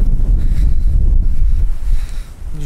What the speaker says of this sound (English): so sorry for any wind noise